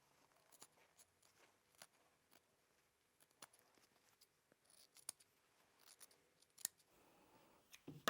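Quiet, crisp snips of scissors cutting through fabric, irregular and close, with a few soft handling rustles between cuts.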